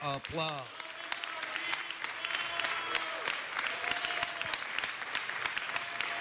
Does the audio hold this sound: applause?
yes